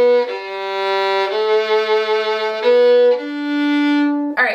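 A solo fiddle plays the next phrase of the Arran Boat Song, a traditional Scottish air, in sustained bowed notes that shift pitch every second or so, clear and close with no voice.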